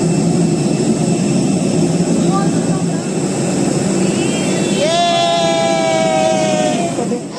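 An airliner cabin after landing at Bagdogra airport in West Bengal, with a loud steady roar of jet engines spooling down and a rising whine near the end, while a voice speaks over the noise.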